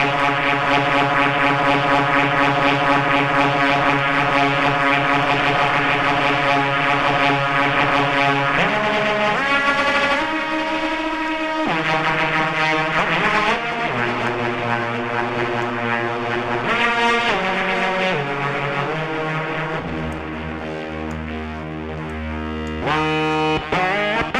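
A sustained synthesizer patch plays shifting chords and notes, with a rapid wobbling fast-LFO modulation running through the buzzy, droning tone.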